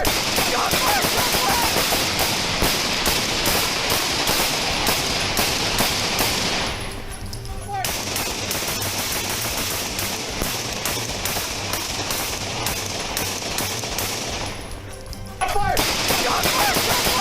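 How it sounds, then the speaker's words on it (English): Gunfire erupts during a police confrontation with an armed suspect, loud dense bursts of shots and chaotic noise running almost continuously, with two brief quieter lulls. "When approached, Neil pulled out a gun and fired the first shot."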